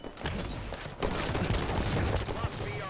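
Gunfire in Halo 5 multiplayer, a loud chaotic barrage of shots and impacts, intensifying after the first second, with faint voices underneath.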